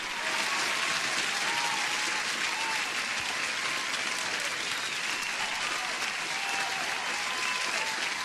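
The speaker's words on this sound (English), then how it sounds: "Here's the applause." Dense, continuous applause from a large crowd, even and sustained at steady loudness for several seconds with no pauses, like a stock applause effect.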